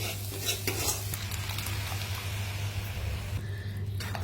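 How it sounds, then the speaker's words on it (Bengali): Spice masala for a boal fish curry fries in a pan with steady sizzling, while a spoon stirs and scrapes against the metal in repeated close strokes; no one speaks. "এবার সব কিছু দিয়ে এটাকে একটুখানি ভালো করে আমি কষিয়ে নেব"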